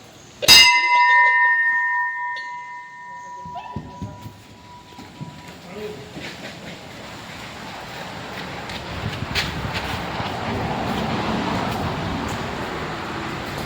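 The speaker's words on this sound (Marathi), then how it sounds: "ओ जे आता घंटी वाजवणार आहे बघा." A temple bell at the large Mahadev temple rings out with one loud, bright strike whose tone rings on, followed by steady wind and distant road noise.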